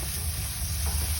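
Tomato elbow macaroni is stirred in a frying pan, giving a steady sizzle and hiss with soft scraping of the pan under a constant low hum from the kitchen.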